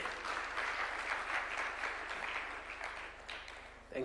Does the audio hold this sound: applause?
yes